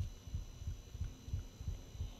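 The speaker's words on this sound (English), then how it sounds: "Kids, can you hear the heartbeats?" Heartbeats in the horror video game Inside the Backrooms, a faint, muffled low thumping that pulses evenly about three times a second under a soft steady hum.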